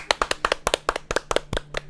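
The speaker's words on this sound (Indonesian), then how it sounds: "Oke, tepuk tangan." A small group claps hands in a short, lively burst of about a dozen sharp, distinct claps in uneven rhythm, close and fairly loud, at a sign-language teacher's talk event.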